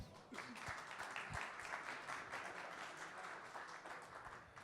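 An audience at a seminar claps steadily in a dense burst of applause, sustained at even loudness throughout.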